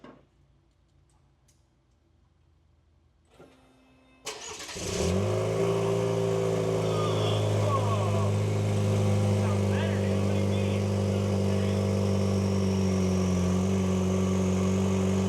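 A 2023 Chevy Colorado ZR2 with a chopped exhaust sits quiet before starting with a clicking crank and settling into a loud, steady, deep idle close by.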